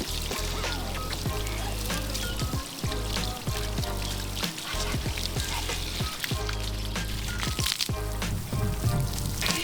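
Hose water pouring steadily onto a washable K&N air filter, a loud continuous splashing gush close by that runs the whole time with small shifts as the stream moves, no talking.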